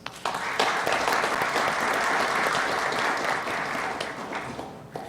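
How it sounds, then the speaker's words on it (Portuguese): Sustained audience applause fills a lecture hall after a guest speaker is thanked, a dense, steady wash of clapping that swells quickly and holds for about five seconds before easing slightly. "Que eu peço uma salva de palmas."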